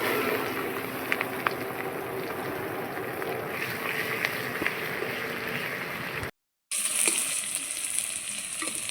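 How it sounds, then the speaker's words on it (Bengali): Chopped onion and panch phoron fry in hot oil in a steady, close sizzle with light stirring, broken by a brief silent gap before the frying resumes. "এই তেলে দিয়ে দিচ্ছি পাঁচ ফোড়ন আর দিয়ে দিচ্ছি পেঁয়াজ কুচি"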